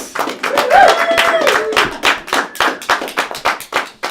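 Audience at an underground comedy show in Fort Collins applauding a comedian, steady close clapping from a crowd that tapers into scattered, rhythmic claps toward the end, with a brief voice calling out over it.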